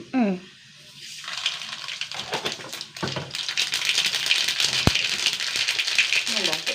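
Mustard and fenugreek seeds spluttering in hot oil in a home kitchen, a steady crackling rattle that builds and persists close by, with a sharp tap partway through.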